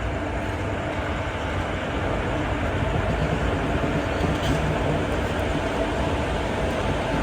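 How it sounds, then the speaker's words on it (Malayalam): Mangaluru Central–Thiruvananthapuram Central Express arriving at a station in Kerala, a loud continuous rumble of the train rolling in close by, steady throughout. "ഇവിടെ ഇതാ Mangaluru central Thiruvananthapuram central express വന്നിരിക്കുകയാണ്."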